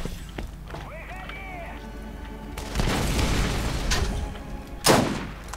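Explosive gun blasts from the video game Borderlands (The Secret Armory of General Knoxx DLC), a few loud booming shots bursting out over steady game background noise, one sharper blast near the end.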